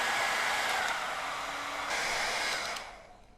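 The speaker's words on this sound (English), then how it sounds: "using our hair dryer, we are going to heat these to fuse them together" Hair dryer blowing hot air onto green and blue Airheads candies to fuse them together, a steady close whooshing hiss that holds and then fades out near the end.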